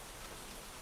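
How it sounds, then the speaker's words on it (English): Steady rain beats against the windows of a cabin in the woods, a dense, even hiss that holds at the same level throughout, fairly quiet and with no voices. "A cabin in the woods. Rain against windows."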